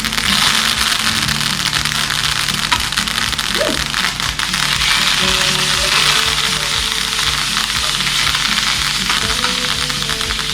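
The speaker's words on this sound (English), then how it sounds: "You want to sear it fat side down first" Rack of lamb searing fat side down in hot olive oil in a pan: a loud, steady sizzling and frying hiss runs throughout, close and continuous, with faint low hum beneath.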